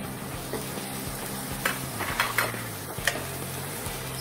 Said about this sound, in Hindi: सब सॉस डालने के बाद हम इसे थोड़ा सा मिक्स कर लेंगे।